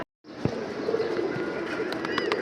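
Pigeons coo softly at a home loft during midday, a low steady murmur of calls with a few brief sharper bird sounds and light movement, close by, with no talk.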